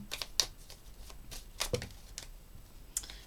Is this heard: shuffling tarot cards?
yes